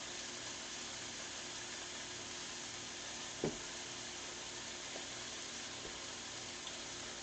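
Marinated steaks sear in a pan with a steady, even hiss throughout, broken by one brief click near the middle.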